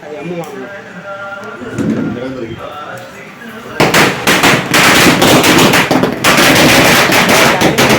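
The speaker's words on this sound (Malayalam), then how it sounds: "പിന്നെ ഇതാ പടക്ക പൊട്ടിക്കലൊക്കെ തുടങ്ങി." Firecrackers set off for the Vishu festival burst in a rapid, dense string that starts a few seconds in and stays loud and close to the end, after brief voices at the start.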